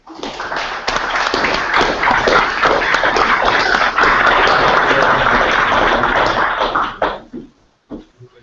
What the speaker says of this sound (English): they deserve a big round of applause for what they did today